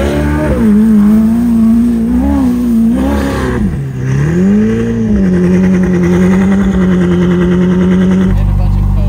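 A Ferrari driven as a rally car on muddy dirt revs hard and close. The engine pitch climbs and dips repeatedly over about nine seconds, with gritty tire and road noise underneath.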